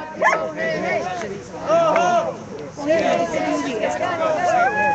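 A dog barks and yips repeatedly amid a crowd at an outdoor anti-fracking protest, its yelps rising over a steady babble of chanting voices and speech throughout.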